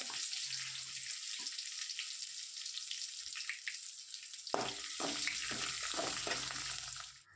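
Onion, green chili and curry leaves frying in a pan, a bright continuous sizzle that swells suddenly midway as more goes in and stirring starts, then steady frying with scraping; no voices.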